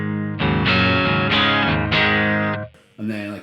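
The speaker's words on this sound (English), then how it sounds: "with everything off on the Lorcan, it sounds like this" An electric guitar plays through a 1-watt Hotone Nano Legacy British Invasion AC30-style amp head with a Caline Lorcan preamp switched off: bright, slightly gritty chords ring out in several strums, then a short pause and another chord.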